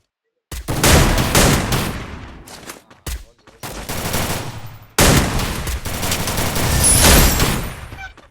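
Rapid automatic gunfire from a multiplayer shooter video game comes in several long, loud bursts with sharp stops between them, with players' voices faint underneath.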